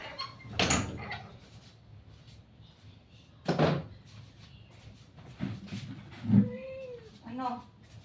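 A cat meows a few times, short close calls spaced apart, mixed with thumps and knocks and a person talking nearby.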